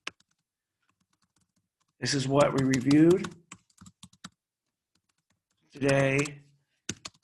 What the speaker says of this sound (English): Can you guys see me typing this?